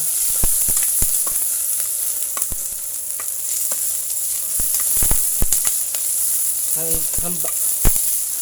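Garlic sizzles steadily in hot oil while being sautéed for pinakbet, a constant bright frying hiss under repeated sharp clicks and scrapes of a utensil stirring against the pan.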